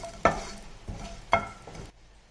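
Green chilies fry in a pan with oil, a soft continuous sizzle broken by a few sharp stirring knocks and scrapes at close range, fading out at the end.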